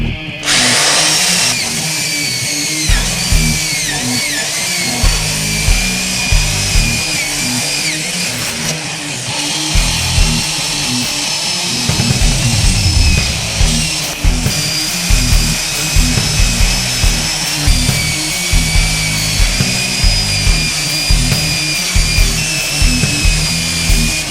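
Loud, continuous grinding of a power tool cleaning rusty metal edges on a car trunk before a new trunk pan is welded in. It runs close for the whole span with brief dips and rhythmic pulses.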